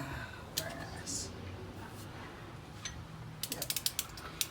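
A ratchet wrench tightens the bolt on a heel/toe shifter of an Indian Scout motorcycle. A few isolated clicks come early, then a quick run of sharp ratcheting clicks near the end, close by over a low background.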